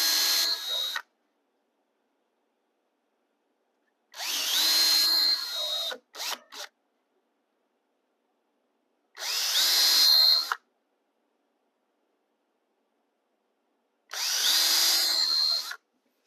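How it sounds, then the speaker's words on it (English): A power drill bores mounting holes into a model railway layout in four separate bursts of about a second each, with a couple of short blips between the second and third, close and moderately loud, with silence between. "Now I can measure and mark where to drill these holes to mount it underneath the layout."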